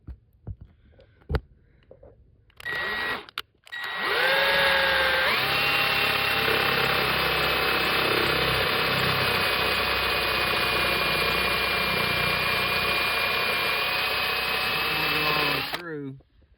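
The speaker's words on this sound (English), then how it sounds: "I'm gonna take this paddle bit right here, and I'm gonna make a hole in the piece of wood" An electric drill fitted with a paddle bit bores a hole through a piece of wood, its loud, steady motor whine running for about twelve seconds after a few brief knocks, then cutting off.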